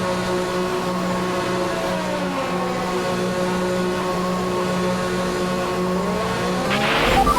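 A Formula 1 race car in the F1 2021 racing game pulls out of the pit lane, its engine a steady, loud, sustained drone that swells and roughens near the end as it accelerates, with no talk.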